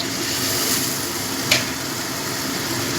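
Hot water goes into a pan of sizzling spices for a Bengali katla fish curry with potato, cauliflower and bori, giving a loud, steady, close hiss with one brief sharper crackle and no talking.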